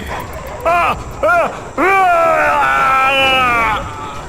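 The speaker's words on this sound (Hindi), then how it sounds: "पीछे से आ रहे कुत्ते विपुल पर टूट पड़े" Dogs attack a man in a dark forest in an animated Hindi horror story, heard as three short rising yelps or howls, then a long wavering whine that carries on for about two seconds, loud and close.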